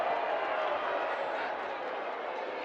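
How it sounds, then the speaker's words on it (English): Spectators at a youth football final between South Africa and Malawi cheer and roar in a broad, steady wash of crowd noise that stays level throughout. "And the crowd is up here."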